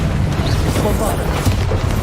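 A Bombarda spell in Hogwarts Legacy goes off as a single deep, rumbling boom, close and heavy, with a voice talking over it.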